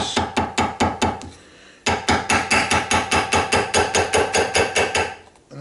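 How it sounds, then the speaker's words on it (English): A small ball peen hammer taps around the edges of a paper gasket: loud, close, regular strikes, a quick run, a short pause, then a long steady series of evenly spaced blows. "the reason you want a small ball peen, get it right in the gaps"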